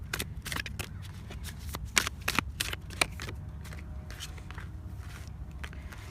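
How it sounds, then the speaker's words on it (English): Tarot cards are shuffled close by and quietly, giving a string of quick riffling and slapping bursts with soft scrapes and low background hum. "So I'm just gonna shuffle on camera."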